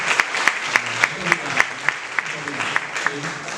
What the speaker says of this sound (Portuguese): Acho que merece uma salva de palmas, com certeza.